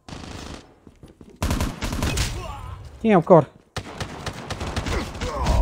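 Video game gunfire crackles in rapid automatic bursts, loud and close, mixed with someone speaking Portuguese and other game sounds, with brief pauses between volleys.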